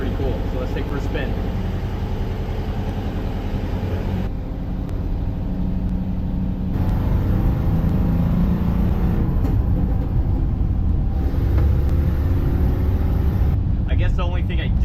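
A VW Bus with a newly installed oil cooler drives around the block, its engine a steady, loud, low-pitched drone that rises and falls slightly in tone throughout the ride.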